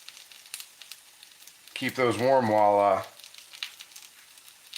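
Liver fries in a cast iron skillet with a soft, steady crackling sizzle running throughout, and a voice briefly speaks in the middle over it.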